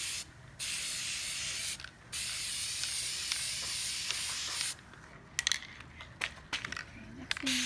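Spray paint hissing from an aerosol can onto a mirror for a DIY gilt finish, in several steady bursts separated by short pauses, then sputtering, uneven short sprays with light handling noises near the end.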